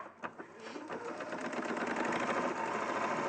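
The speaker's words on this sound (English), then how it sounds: "So if we just sew to the pin, do our reverse stitch." A sewing machine stitching fabric runs steadily and gets louder after a couple of faint clicks at the start, sewing up to a pin before a reverse stitch, with a quiet voice barely present.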